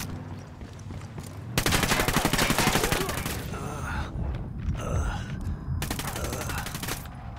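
Automatic gunfire in the Ghost Recon Wildlands video game, with loud sustained bursts of rapid shots, brief pauses between volleys and a player shouting over the fire.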